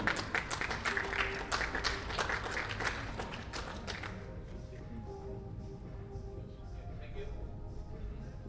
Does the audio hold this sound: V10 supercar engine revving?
no